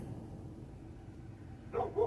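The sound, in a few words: dog barking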